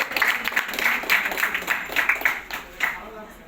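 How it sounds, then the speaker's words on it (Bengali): An audience at a business award ceremony claps for an honoree, a lively patter of many hands that fades toward the end, mixed with some voices. "বেলাল হোসেন স্যারকে জোরে তালি দাও।"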